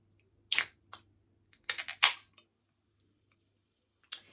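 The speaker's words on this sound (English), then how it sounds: "how about we just crack open a can?" A drink can is cracked open by hand with long nails, giving a sharp click and hiss around half a second in, followed by a couple of louder metallic pops and snaps, all close and clear in a quiet room.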